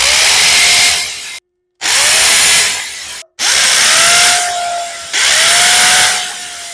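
A hammer drill bores anchor holes into a concrete block wall, loud close grinding runs in four long bursts with brief stops between, the motor pitch shifting as it bites.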